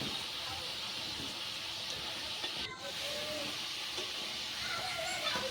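Sweet potato pantua, a Bengali sweet, sizzles while frying in oil, giving a steady soft hiss with a brief dip midway. No one speaks.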